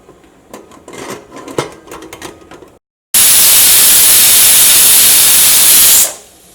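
Some clattering and shuffling, a moment of silence, then a loud, steady hiss of steam bursts from a pressure cooker whistle for about three seconds before cutting off.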